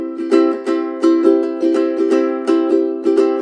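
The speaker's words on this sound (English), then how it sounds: "Island Strum. That sounds like this." A ukulele plays the Island Strum pattern, with bright, evenly repeating strums in a quick, bouncy rhythm, close and clear, with no talking.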